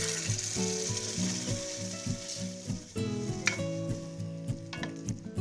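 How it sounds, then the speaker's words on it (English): Crushed tomatoes hit hot garlic in a pan for a lasagna marinara, setting off a loud, continuous sizzle and frying hiss with a few clinks of a utensil against the pan. "Let's throw in the crushed tomatoes."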